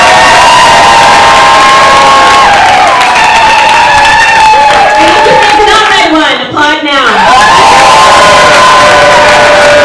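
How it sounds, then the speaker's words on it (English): Loud crowd cheering, whooping and applauding at a live haiku competition in Vancouver, a dense roar of voices and clapping up close that dips briefly before surging again. "If you think Red won that round, applaud now."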